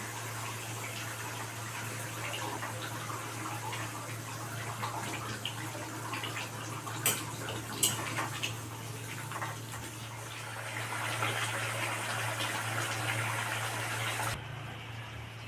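Curry broth bubbling and simmering in a pot as duck eggs are added, a steady wet burbling hiss with a few soft clinks and splashes, close and fairly quiet.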